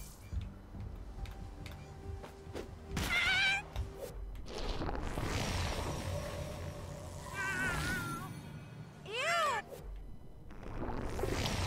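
Cartoon cat meows ring out in South Park: The Fractured But Whole, several sharp wavering calls spaced among clicking game sounds and effects, with no voices.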